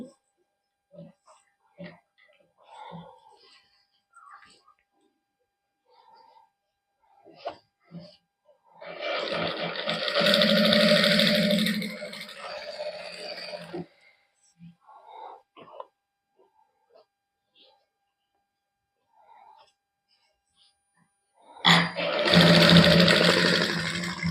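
Sewing machine running a loose basting stitch along the hem of a Punjabi suit in a boutique, two bursts of steady whirring separated by quiet stretches with soft handling clicks.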